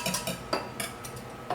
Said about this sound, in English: I'm going to go ahead and add my olive oil into here. And you can start to whisk it in just to incorporate everything together.